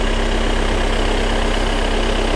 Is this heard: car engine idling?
yes